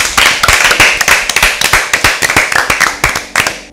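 An audience claps for Team B at a Bible quiz, a lively burst of fairly close, dense handclaps that rattle along steadily for a few seconds before stopping at the end.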